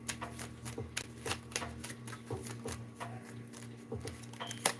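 Tarot cards being shuffled and drawn from a deck, giving a run of quick close papery riffles and flicks in an irregular rhythm over a steady low hum, with no talking.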